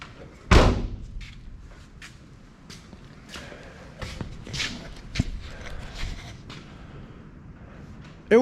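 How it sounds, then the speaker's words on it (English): The door of a Japanese Hijet mini truck slams shut once with a loud, close bang, followed by quieter knocks and thuds. "Let's get this door shut."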